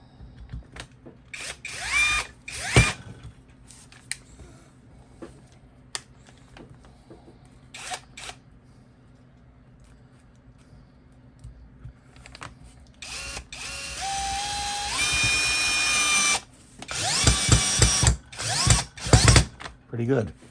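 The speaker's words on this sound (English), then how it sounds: "Let's see how this drives a screw in." Seyvum 12V cordless brushless drill driving a screw, short trigger bursts and clicks at first, then a longer whining run rising in pitch as the screw seats, followed by several more loud bursts, close by.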